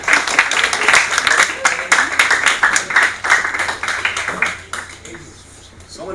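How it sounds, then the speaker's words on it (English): Audience applause at a 2019 WISE model presentation event, heard as a burst of steady clapping from a crowd that thins and fades out near the end. "Yeah, you can give a round of applause."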